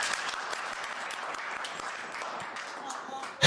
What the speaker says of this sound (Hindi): चलो भाई एक बार ताली मारिए।